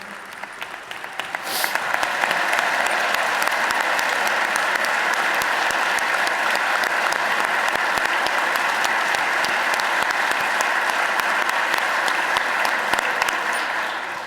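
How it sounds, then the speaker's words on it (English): Sustained, dense applause for a teacher from a large audience at a governor's budget address, building quickly and holding steady and loud for over ten seconds. "clap for Haley, there you go"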